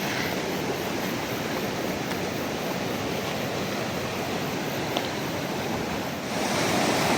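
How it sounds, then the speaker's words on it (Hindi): Loud, steady rushing of fast-moving water, a dense broadband roar that never lets up, heard close by with no voices. "पानी का बहाव भी इतना ज़्यादा बढ़ चुका है ना"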